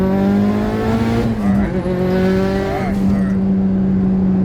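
A Mitsubishi Evo 8, tuned for fuel problems, pulls at half throttle on a test drive, its engine droning loud and close with rising, shifting harmonics as it accelerates, a voice speaking faintly over it.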